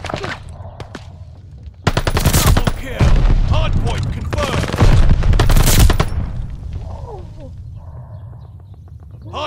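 An airstrike strafing run in a multiplayer shooter video game: bursts of rapid automatic gunfire and booming impacts roll in loudly for several seconds, then trail off into quieter game sounds.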